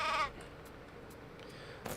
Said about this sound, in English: There's a sheep down here now.